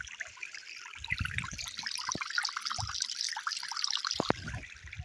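Water of the Maritsa river flowing strongly, a steady close rushing and gurgling with scattered splashes throughout, heard alone without speech.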